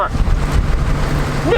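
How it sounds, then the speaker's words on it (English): Strong wind buffets the microphone outdoors at an RV campsite, a continuous low rumbling roar with gusty fluctuations. "It's so windy."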